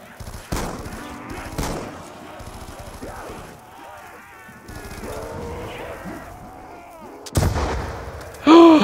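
RPD light machine gun in Black Ops 2 Zombies, heard as several loud separate bursts of gunfire between quieter stretches of game sounds, with one last burst near the end.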